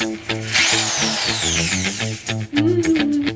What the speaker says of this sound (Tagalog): just gonna drill my wall